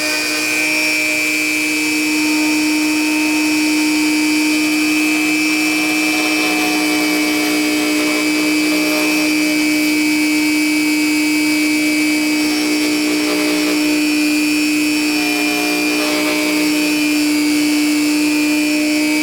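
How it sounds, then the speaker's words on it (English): A Dremel rotary tool cuts an ebony guitar nut slot, giving a continuous high-pitched motor whine with grinding that shifts slightly as it bites into the wood, loud, steady and close throughout, no talk. "I'm going to use a Dremel to take the majority of it out"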